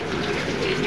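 A pigeon sitting near a roadside eatery coos in a short, close, low murmuring call that carries on evenly for under a second, with no talk over it.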